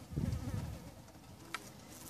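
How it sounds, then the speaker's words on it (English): Flies buzzing close by around a dead bird set out as maggot food for quails, a steady low droning hum with a brief faint insect pass near the end, no talking. "There's hella flies"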